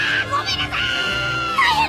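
Luffy from One Piece lets out a loud, sustained, strained scream that fills the whole moment, voiced close up with shifting pitch.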